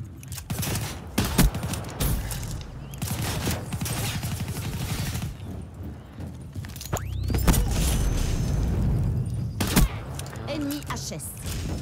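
Marshal 16 handgun fire in Call of Duty Black Ops 3 on the Nuketown map: repeated loud, close shots in irregular bursts over a busy match, with a voice talking throughout.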